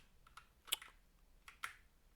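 Computer keyboard typing arrives as a few sharp, close keystroke clicks in two small clusters, quiet against a faint background hiss, with no speech.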